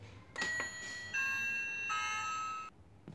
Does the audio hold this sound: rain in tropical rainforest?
no